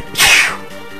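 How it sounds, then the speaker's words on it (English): A single sharp sneeze bursts out close and loud, a bright noisy blast that fades within half a second over a quiet background. "Sorry, sneeze."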